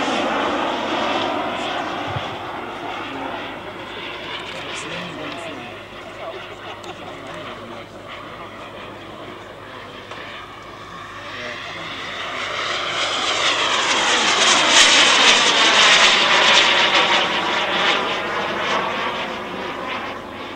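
Model English Electric Lightning jet aircraft flying at an airshow, its steady high turbine whine sweeping in pitch and swelling louder toward the end as it passes close, with people talking faintly underneath.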